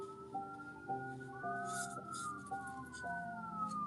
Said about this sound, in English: I hear some sirens.